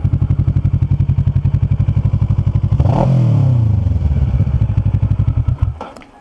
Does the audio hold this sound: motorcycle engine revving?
yes